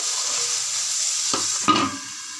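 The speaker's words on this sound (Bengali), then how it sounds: "আলু উচ্ছে ভাজা তো, এর মধ্যে একটু জল ছিটিয়ে তারপর এটাকে ঢাকা দিয়ে দেবো" Potatoes and bitter gourd fry in hot oil with a constant bright sizzle, then water is sprinkled into the pan and the sizzle briefly flares up with sharp spitting bursts before settling.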